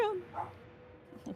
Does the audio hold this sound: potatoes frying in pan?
no